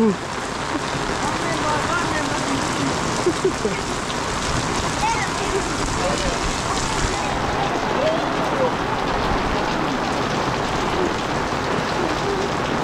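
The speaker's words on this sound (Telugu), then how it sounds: "పెద్ద వర్షం." Heavy rain pours steadily on a hilltop hut in a tribal village, a dense, continuous hiss and patter that stays loud and even throughout, with faint voices now and then beneath it.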